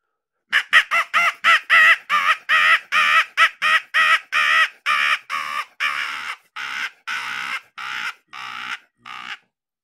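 A Crowman hooded crow call imitates cawing: about twenty loud, raspy caws, quick at first, then slowing and growing slightly fainter toward the end.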